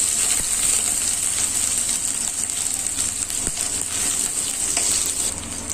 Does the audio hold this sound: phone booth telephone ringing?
no